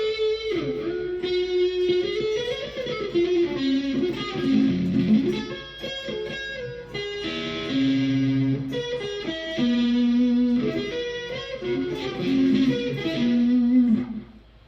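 Donner Arena 2000 multi-effect guitar pedal cycling through preset tones: a loud electric guitar plays melodic phrases and sustained notes through distorted, chorused and reverberant effects, with the tone changing across the passages and no voice.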